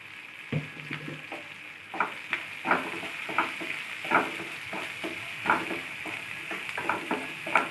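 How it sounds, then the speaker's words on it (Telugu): Onions and spices with curry leaves and turmeric fry in oil for a drumstick-leaf fry, a steady close sizzle broken by regular scraping stir strokes and light clinks of a utensil against the pan, with no voices. "ఇవన్నీ వేసుకొని ఉల్లిపాయలు బాగా ఆయిల్లో ఫ్రై చేసుకోవాలి."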